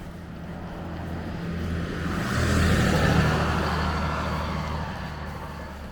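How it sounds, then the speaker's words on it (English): A car passes along a road outdoors, its tyre and engine rush swelling from a distant hum to a loud peak midway and fading again, heard alone without talk. "Sounds like a car."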